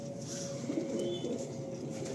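Fancy pigeons at a sale coo softly and briefly at close range, a low murmuring burble against a quiet, steady background hiss.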